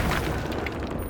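A Confringo blasting spell explodes in the video game Hogwarts Legacy, a dense, loud boom that fills the whole brief moment with rumbling low end and noisy burst.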